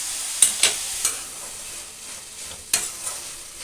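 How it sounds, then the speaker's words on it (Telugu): Chopped ridge gourd cooks with ginger garlic paste and onion in a pan, a soft sizzle under a few quick scraping stirs, close and fairly quiet. "అల్లం వెల్లుల్లి పేస్టు ఆనియను బీరకాయ ముక్కలు అంతా కలిపాను ఒక రెండు నిమిషాలు మగ్గనిద్దామండి"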